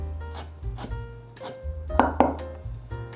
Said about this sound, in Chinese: 切碎。